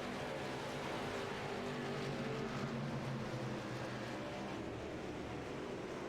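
Several race car engines drone on in a sim racing game, a dense steady roar of mixed engine tones with no talk, fairly quiet overall and continuous throughout.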